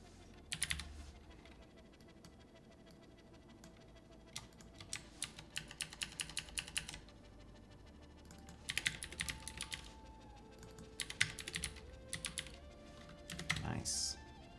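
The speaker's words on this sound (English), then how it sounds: "Are you typing on it right now?" Someone types on a computer keyboard while coding in a command-line tool, with bursts of quick close key clicks separated by pauses, fairly quiet under a low room hum and a steady tone.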